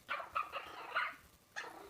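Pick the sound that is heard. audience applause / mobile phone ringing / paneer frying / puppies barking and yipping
puppies barking and yipping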